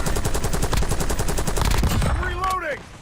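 Rapid automatic gunfire in the video game Warzone, a dense stream of close, loud shots that stops abruptly, followed by a brief electronic chirp as the burst ends.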